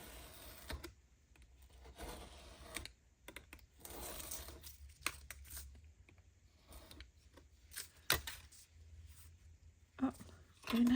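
Scissors cutting paper for a craft journal with a sewing-themed Tim Holtz pocket folio, a series of close, crisp snips and rustles in short bursts with quiet gaps.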